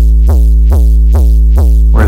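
Clean sub bass from the Vital synth with an aggressive high cut, for a future riddim track, pulses in four loud, evenly spaced notes, each with a short bright attack that quickly softens into a deep rounded tone.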